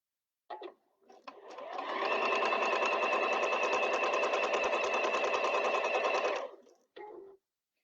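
A sewing machine runs at a steady fast stitching rhythm for about four seconds, loud and close, with short mechanical clicks just before it starts and again after it stops.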